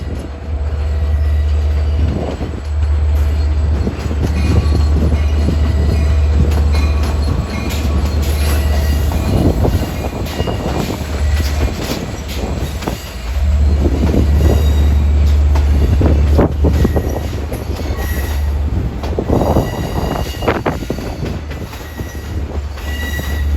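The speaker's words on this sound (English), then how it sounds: "This is train 554's equipment for Oyster Bay, coming in on track 8 out of the storage yard." A train rolls in loudly from the storage yard onto track 8 of Jamaica station, with a steady low rumble, clattering wheels and high metallic squeals from the rails. No one speaks.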